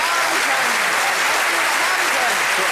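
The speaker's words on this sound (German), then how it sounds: "Applaus für Sie, sehr schön." Dense, steady applause from a television game-show audience fills the whole short stretch at an even, loud level.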